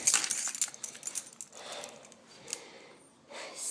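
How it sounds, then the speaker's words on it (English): A set of keys jangles close by in several bright, metallic rattling bursts, loudest at the start and then in sparser shakes, with no talking. "I don't know what I did with my keys."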